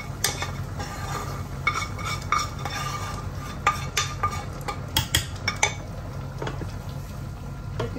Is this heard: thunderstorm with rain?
no